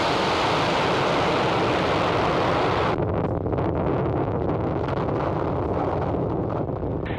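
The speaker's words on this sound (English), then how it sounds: "And liftoff of Falcon 9." Falcon 9 rocket lifting off on the NROL-48 mission: a dense, continuous roar of broadband rumble that fills the whole clip and stays loud and steady, its upper hiss thinning slightly partway through.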